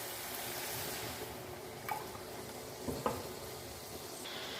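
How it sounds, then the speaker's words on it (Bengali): Masala paste sizzling and frying in a pan for a Bengali katla fish curry as water is poured in, a steady hiss with a few soft splashes and stirring clinks, close and fairly quiet. "এর মধ্যে আমি এবার জল অ্যাড করে দেবো।"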